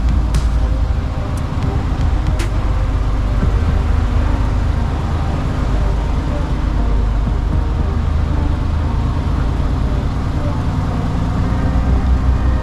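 A heavy truck hauling a Bell B40E articulated dump truck pulls away in first gear after finding grip, its engine a loud, steady low rumble heard from inside the cab, with a few brief clicks near the start.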